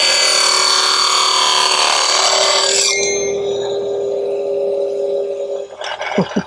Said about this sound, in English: let's go ahead and just run a test cut through it